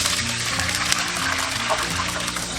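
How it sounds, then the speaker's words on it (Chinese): Water is poured into a pot, producing a steady, fairly loud close gushing splash that runs unbroken throughout. "加入清水"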